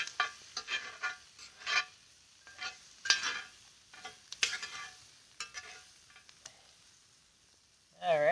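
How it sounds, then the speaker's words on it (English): Food frying and sizzling over an open campfire, with intermittent stirring and scraping strokes in bursts, close and moderately loud, ending in a louder rush of sizzle. "Nothing like cooking on an open fire."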